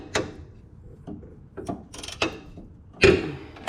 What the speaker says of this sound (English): we're gonna go ahead and crack loose the fill bolt here